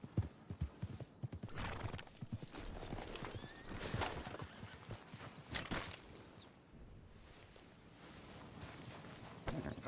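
In the game Red Dead Redemption 2, a horse clip-clops along with uneven hoof beats, snorting and a whinny, while a voice speaks briefly in the background.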